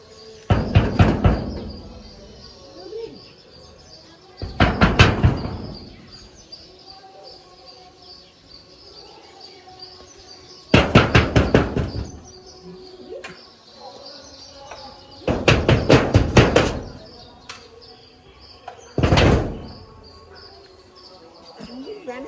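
Loud, heavy knocking on a door comes in five separate bursts of rapid thumping blows with quiet pauses between them, close and booming.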